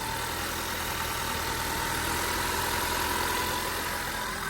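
The 4-cylinder car engine idles in a steady, even drone. It stays moderately loud throughout and no one speaks over it.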